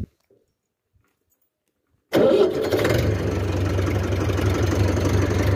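A 1999 Massey Ferguson 285S tractor engine starts after two seconds of silence, catching at once and settling into a steady, loud, rumbling idle up close.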